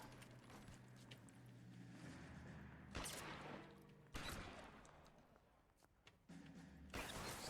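Gunfire from a shootout in the video game L.A. Noire, with bursts of shots around the three-, four- and seven-second marks over a steady mix of game background noise.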